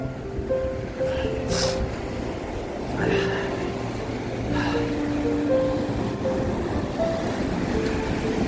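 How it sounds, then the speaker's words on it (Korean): Strong surf at Songjeong Beach, Busan, surges and crashes in a constant roar, with wind buffeting the microphone and faint tonal hums drifting through. "파도 세다"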